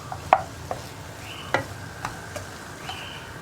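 Cut okra goes into a pan where chilli powder is cooking for a vendakka mezhukkupuratti, then gets stirred. A few sharp clinks and scrapes stand over a faint, low sizzle, with no talking.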